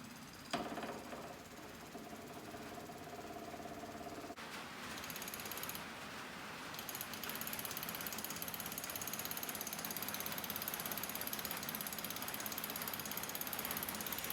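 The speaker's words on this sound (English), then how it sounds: "essentially you just turn the pump on" An electric pump pushes washer fluid into a small tractor tire, starting with a click and then a steady rattling, ratchet-like mechanical drone that grows slightly louder and runs on continuously.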